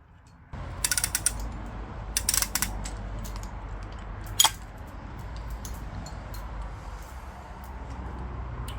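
A used chain block's clutch mechanism is taken apart, with metallic ratcheting clicks in short bursts over a steady low mechanical rattle and one sharp clank near the middle.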